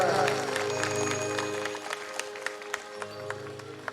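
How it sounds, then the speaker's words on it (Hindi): Audience clapping to welcome guests at a Shakti Kalash Pooja ceremony, scattered applause that thins out into separate claps over a sustained droning tone and background chatter. "तालियों के गड़गड़ाहट के साथ"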